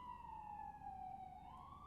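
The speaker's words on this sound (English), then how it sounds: "You're about to hear a siren go by." An emergency vehicle siren passes by outside, faint and distant, its wailing tone sliding steadily down and then rising again.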